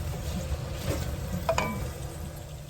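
Soft, steady simmer and light frying in a pan on the stove, a low bubbling hiss with a couple of faint clinks, quiet and close with no talk.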